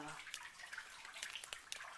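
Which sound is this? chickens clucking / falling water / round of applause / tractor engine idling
falling water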